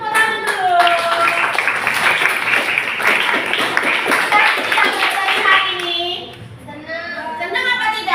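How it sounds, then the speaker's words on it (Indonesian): A sixth-grade class clapping together in a lesson, brisk rhythmic hand claps from many children that last about six seconds, with children's voices and a teacher's talk around them as the clapping stops. "Tepuk tangan dulu."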